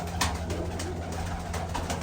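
Pigeons coo softly in repeated low calls over a constant background hum, fairly close, at a home pigeon-flying loft.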